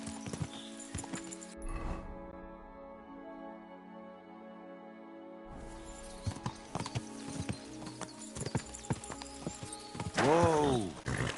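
Horse hooves clip-clop in the video game Kingdom Come, a steady rhythmic trot under game ambience, with a brief louder whinny-like burst near the end.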